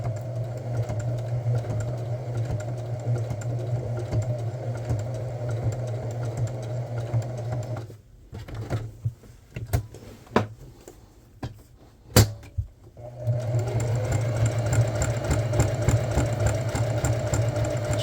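A sewing machine stitches a fraying hockey jersey crest, its motor humming in a steady rapid rhythm, stopping for several seconds of clicks and handling sounds, then running again, close by.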